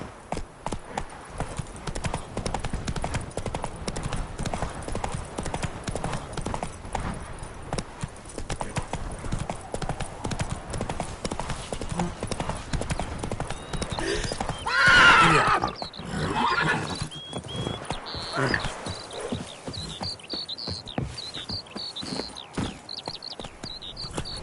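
Hooves of Geralt's horse Roach clip-clop steadily in The Witcher 3 video game, a continuous galloping rhythm throughout with a horse's whinny rising loudly around the middle, amid game ambience.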